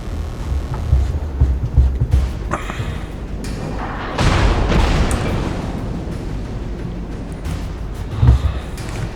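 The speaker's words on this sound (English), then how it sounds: "Shoot out some torpedoes." Torpedoes launch from a warship in the naval combat game World of Warships, with heavy booming bursts and rumbling blasts that swell and fade over several seconds, loud and close, with no talking.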